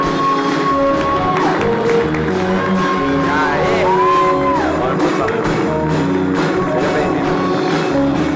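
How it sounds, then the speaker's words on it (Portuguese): Studio audience bursts into sustained applause, cheers and whoops for a guest, the dense crowd noise steady and loud throughout with scattered shouts rising above it. "Uma salva de palmas para esse guerreiro brasileiro, paulistano, Flávio Almeida."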